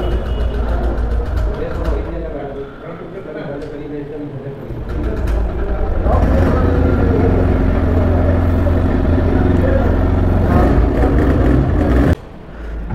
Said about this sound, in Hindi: गाइस आप तो एग्जॉस्ट साउंड सुन चुके हैं।